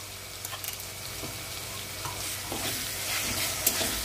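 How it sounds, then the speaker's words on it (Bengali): A masala paste for pomfret fish curry, with beaten sour yogurt added, fries and is stirred in a pan, a close, steady sizzle with scraping strokes and no talking. "মশলাটা ভালো করে কষে নেব।"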